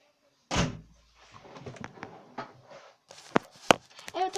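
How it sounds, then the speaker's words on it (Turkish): A door closes with a loud thud, followed by softer rustles, knocks and handling noises, then a couple of sharp clicks and bumps indoors, with faint voices in the background. "Ya bir de kapı kapatıyor ya."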